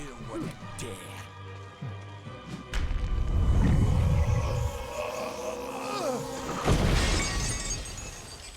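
An enemy in Kingdoms of Amalur is thrown through a wall, which bursts apart in a loud, crunching shatter with scattering debris, after a few sharp impacts and a growling rumble. Someone talks throughout.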